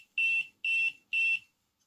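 An RC transmitter powers on with three short, evenly spaced electronic beeps at a high pitch, clear and close, with silence after.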